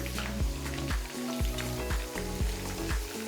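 Chicken kebabs frying in hot oil give off a loud, constant close-up sizzle with bubbling crackle and a few faint knocks, with no talking.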